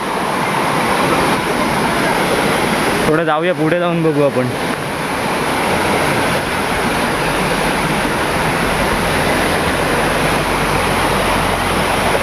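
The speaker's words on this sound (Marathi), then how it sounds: "पाण्याचा आवाज बघा मस्त खळखळ वाहणारं पाणी" Stream water rushes loudly and continuously near a rain-fed roadside waterfall in Konkan, a broad steady roar with someone briefly speaking over it early on.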